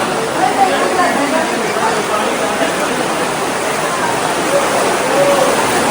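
Constant rushing of water flowing through a cave, fairly loud and close, with faint indistinct voices beneath it.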